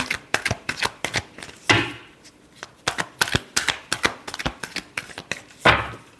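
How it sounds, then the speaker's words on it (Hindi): Tarot cards shuffled in and out by hand, a close series of crisp slaps and quick riffles in uneven bursts, separated by short pauses, with no voice. "last shuffle, in and out"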